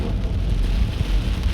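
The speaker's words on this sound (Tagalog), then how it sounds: "Sobrang lakas ng ulan. May kasamang hangin." Heavy rain driven by wind pours down outdoors, a dense, steady roar with low gusty rumbling throughout, loud and close with no voices.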